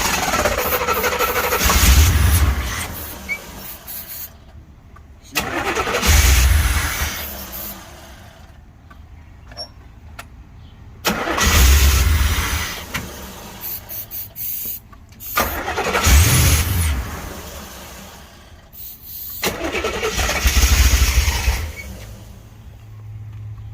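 A 1984 Corvette with a newly changed fuel pump is cranked again and again: five loud, close bursts of engine turning over, each separated by a pause of near quiet.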